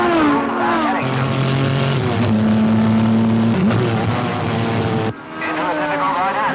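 Race cars in a 1960s motor race roar past with loud, sustained engine drones that shift in pitch as they pass, and a commentator talks over them throughout.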